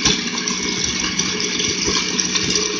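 A Sunbeam MixMaster Heritage Series stand mixer beats boxed cake mix with a continuous close motor whir and a busy churning rattle at an even pitch, with no talking.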